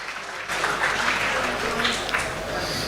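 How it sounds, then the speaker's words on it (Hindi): Audience applause welcoming a poet on stage at a mushaira held for a five-star hotel opening in Dubai, breaking out suddenly after a half-second of quiet and staying as a steady, dense wash of clapping. "ज़ोरदार तालियों से उनका इस्तकबाल करें"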